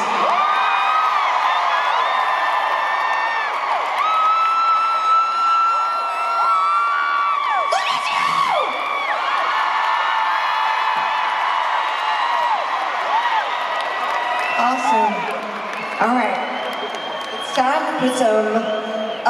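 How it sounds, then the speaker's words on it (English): A party-mood crowd at a concert in Mountain View, California, cheers and whoops steadily throughout, with shouts and scattered claps over live music, loud and close, swelling near the end. "Oh my God, this is a party crowd."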